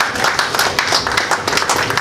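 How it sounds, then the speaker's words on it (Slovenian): Applause at the opening of an art expo in Slovenia, a crowd clapping loudly and briskly in a dense, continuous burst. "tako da en aplavz za gospodine."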